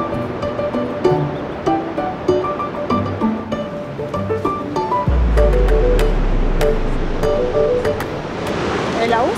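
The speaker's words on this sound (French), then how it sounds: "à Foroglio, tout près de la cascade Froda" Rushing water of the Froda waterfall at Foroglio in the Val Calnègia, a broad steady roar that swells louder midway, with voices talking over it.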